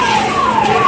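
A fire engine siren wails at the scene of a car that caught fire from a short circuit. A loud, steady tone glides slowly downward and sounds close, with nothing else heard over it.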